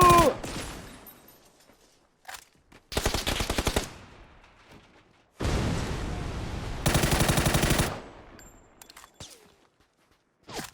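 Automatic gunfire in the video game PUBG, loud bursts of rapid shots separated by gaps, with a few single shots and metallic clinks in between, and no talk over it.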